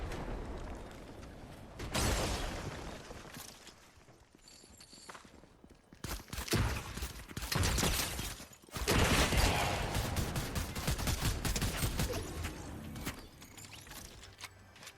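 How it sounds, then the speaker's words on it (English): Distant gunfire in a video game: scattered broadband bursts and volleys arrive in clusters, strongest around the middle and latter half, with no talk over them. "So I see the shots in the distance."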